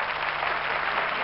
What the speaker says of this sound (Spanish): les vamos a recibir, si les parece, con un fuerte aplauso